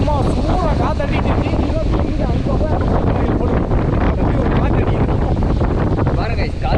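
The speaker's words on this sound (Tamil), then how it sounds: "காற்று சும்மா சூடாக காற்றடிட்டு" Strong hot wind buffets the microphone at a hilltop viewpoint near Top Station in Theni district, a loud continuous rushing roar while someone speaks over it.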